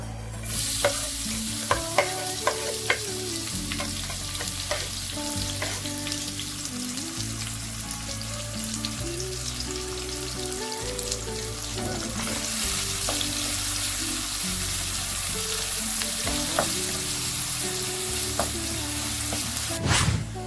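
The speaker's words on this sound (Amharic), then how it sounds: "ዘይቱ ሲበስልልን ሽንኩርታችንን እንጠብሰዋለን" Onions fry in hot oil in a pan on a stove for vegetable noodles, a dense, continuous sizzle with stirring scrapes and clinks running throughout, close and loud, with no voices.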